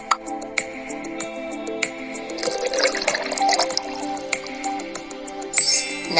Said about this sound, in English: Now fill up the bottle with some water.